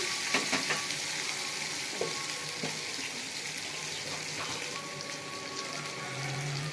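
Onion, green chilli and tomato masala frying in a pan with salt added, a steady close sizzle with scattered stirring clicks and scrapes throughout, no voices.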